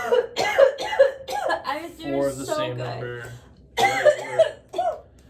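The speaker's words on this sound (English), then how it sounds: "is coughing again" A few short coughs break out between stretches of conversation, close to the microphone, with people talking before and after.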